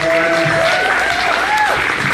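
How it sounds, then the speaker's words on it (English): Audience applause for poets at a bilingual literary evening, a steady wash of clapping across a crowded room, with faint voices and a whistle-like tone riding along underneath. "Let's give all the poets another round of applause."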